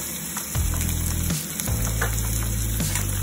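Onions and green chillies sizzle steadily in a hot pan while cooking a Chickidi Kayalu fry, with a continuous close frying hiss and a few brief stirring clatters, no talk.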